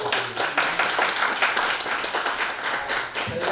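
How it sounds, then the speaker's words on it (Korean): Audience clapping at a lecture, a brief burst of steady, fairly loud applause from a crowd filling the whole moment without any talk over it. "다시 한번 박수 부탁드립니다."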